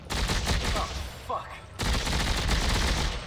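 Rapid automatic gunfire in the video game Dead Space 3, loud dense bursts of shots that stop briefly and then resume in a sustained stream.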